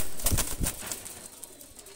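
A young Omani pigeon gives a couple of quick, sharp wing flaps close by, followed by faint soft cooing that fades out.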